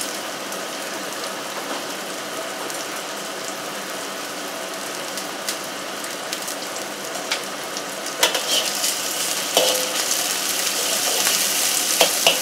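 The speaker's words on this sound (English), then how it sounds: "So in with the bacon, fry until crispy." Bacon frying in a pan until crispy, a steady broad sizzle and crackle throughout, close and fairly loud, with occasional pops and utensil scrapes toward the end.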